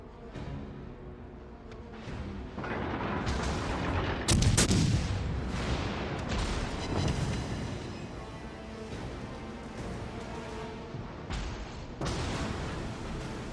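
Battleship gunfire in the World of Warships Legends naval game, with a series of heavy booming salvos and crackling blasts spread irregularly over a continuous rumbling battle backdrop.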